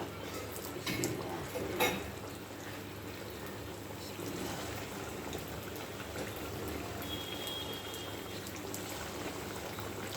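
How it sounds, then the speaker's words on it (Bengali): Semolina pitha cakes frying in hot oil on low heat, a steady close crackling and bubbling sizzle running throughout, with a couple of brief clatters near the start. "এই যে এখন আমি ভাজতে যাব। তেলটা গরম হয়ে গেছে"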